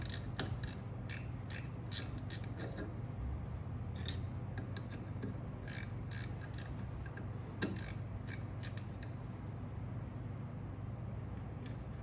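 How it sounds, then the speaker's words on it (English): Ratchet wrench spinning bolts out during rear drum brake work on a 2000 Ford Contour, giving a steady run of close, fast metallic clicks and ticks over a low background hum, with no talking. "Your nice ratchet wrench."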